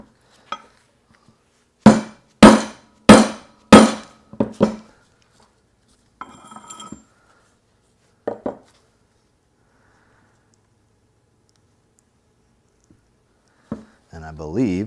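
A motorcycle steering bearing is driven into place with five sharp, ringing metallic whacks in quick succession, followed by a few sparse knocks, a brief shuffle and a short burst of voice near the end.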